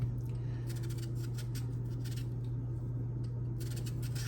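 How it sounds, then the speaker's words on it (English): A knife cutting up a cucumber, faint rhythmic slicing taps over a steady low electrical hum in a quiet kitchen. "I'm just gonna continue to cut up this cucumber."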